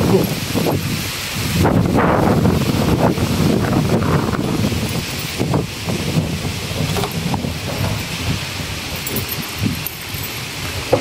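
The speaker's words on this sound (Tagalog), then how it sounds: "Malakas talaga ang hangin guys." Strong typhoon wind roars and buffets the microphone in steady, heavy gusts, with rustling and a faint rushing like surf underneath.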